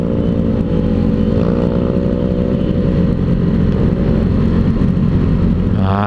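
A Yamaha Mio scooter fitted with a newly replaced aftermarket exhaust revs loudly and steadily up close, its droning engine note rising near the end, with no voices.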